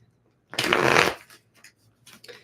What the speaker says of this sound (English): I am shuffling cards, just so you're aware.